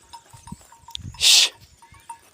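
A single loud bleat from a sheep in a village, bursting out briefly in the middle, standing clear above faint rustling and low background noise.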